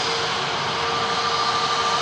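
An EasyJet airliner taxis past on the ground, its jet engines giving a steady, loud whine and rush that holds evenly throughout.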